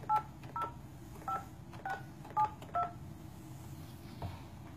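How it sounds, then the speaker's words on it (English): Touch-tone keypad beeps as a telephone number is dialed, about six short evenly paced tones over a quiet hiss, fairly faint, with no speech. "I'm gonna call the number that Veronica provided me"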